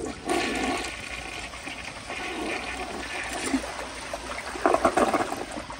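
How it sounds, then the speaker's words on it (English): A 1984 round Lamosa Atlas toilet flushes with the handle held down, giving a close, steady rush of water that swirls and gurgles for several seconds. "here is the first flush. And I will be holding down the handle."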